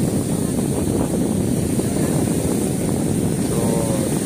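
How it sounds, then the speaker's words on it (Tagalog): Strong wind buffeting an outdoor microphone on the shore of Manila Bay, a steady loud low rumble and roar that never lets up, with faint background activity beneath it. "Sana dinig yung boses natin dahil napakalakas ng hangin"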